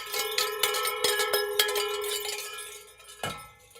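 A radio station's official jingle bell rings in a quick run of bright metallic strikes that decays into a sustained ringing tone, ending with one final hit, clear and without speech.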